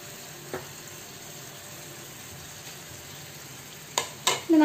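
Sliced ginger drops into a hot pan for a Kerala pomfret curry in coconut milk. After a quiet, faintly hissing stretch, two or three sharp sizzling bursts rise near the end as the ginger hits the oil.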